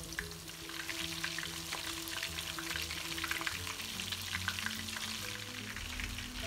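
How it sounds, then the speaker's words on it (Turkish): Oil sizzles and crackles steadily as chicken pieces fry in a pan, a dense, continuous hiss with small pops, close and fairly loud. "Kalan tüm tavuk parçalarını da aynı şekilde kızartıyoruz."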